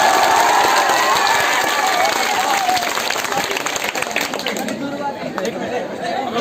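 Crowd at a community caste conference in Bihar applauding and cheering to welcome an MP, a dense continuous clatter of clapping mixed with chatter and shouts, with voices talking over it throughout.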